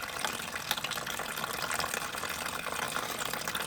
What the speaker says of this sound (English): So I'm draining out the old stuff after having run it for a while with the cleaner in.